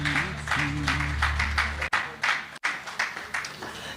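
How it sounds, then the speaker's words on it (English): Clapping from an audience at an award ceremony runs under a loud musical backdrop with low humming tones, cut by two brief dropouts before the applause carries on. "let's give them a warm round of applause."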